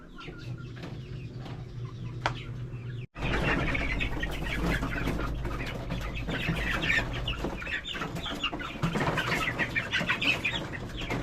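Many chickens clucking steadily in a busy coop, with a brief pause near the start before the flock noise resumes loudly and continuously.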